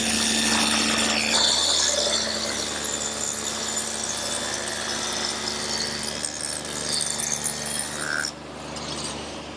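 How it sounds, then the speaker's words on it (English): A table saw fitted with a dado head cutter cuts a groove in wood, giving a loud, continuous whine and rasp from start to finish. The sound dips slightly as the cut ends. "I've set up the saw with the dado head cutter again"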